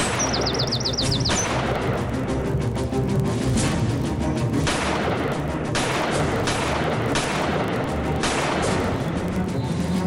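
A homemade single-shot country gun fires several sharp, loud reports spaced seconds apart, over a dense, steady outdoor background with high bird chirps.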